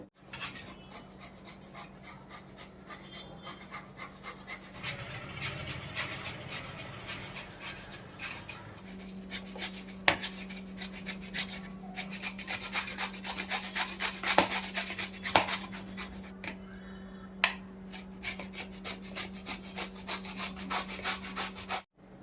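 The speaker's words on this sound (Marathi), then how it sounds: "तर आता मी भोपळा खिसून घेते" A bottle gourd is grated by hand in a home kitchen, giving a steady rasping scrape that runs on and on, with louder strokes in the second half over a constant low hum.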